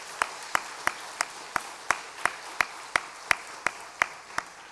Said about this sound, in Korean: 우리 박수하도록 하겠습니다.